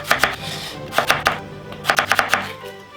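A knife chops through yellow-fleshed potatoes on a board, cutting them into fry sticks, in crisp close strokes that come in quick clusters of two to four with short pauses between.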